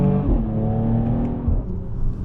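A Mercedes-AMG GLE 53 drops a couple of gears and accelerates at night, its engine giving a brief, loud rising growl with a quick shift step, heard close from inside with no talking.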